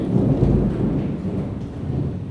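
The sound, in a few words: rain falling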